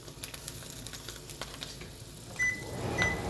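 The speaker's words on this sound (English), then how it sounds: "You hear that little frying sound?" Soft, steady sizzling of sausages frying in a pan, a low crackling hiss with faint pops, joined near the end by a couple of brief high beeps.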